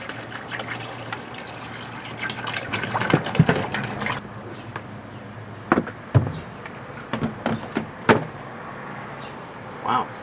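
Running tap water trickles and splashes over lye-stripped cast iron pans in a kitchen sink, a steady wash broken by several sharp knocks and clanks of metal against the basin.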